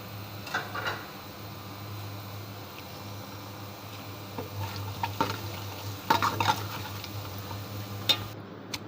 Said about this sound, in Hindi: अब इसमें हम तेज़पत्ता, दालचीनी, छोटी इलायची, बड़ी इलायची, ज़ीरा, लौंगे और काली मिर्ची, ये हम इसमें डाल रहे हैं